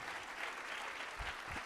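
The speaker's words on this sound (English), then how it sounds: "So how about a round of applause to the folks at PKF Texas?" Faint audience applause at a business pitch event, a steady wash of clapping heard from a distance throughout, with a couple of low thumps near the end.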